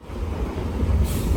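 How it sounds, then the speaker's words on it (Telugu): A MEMU express train runs on rails between Narsapur and Bhimavaram, heard from on board as a brief, loud, rumbling rattle of wheels and carriages. "ట్రైన్ అయితే మ్యాక్సిమం స్పీడ్ 86 అందుకుందనమాట ఇప్పటి వరకు"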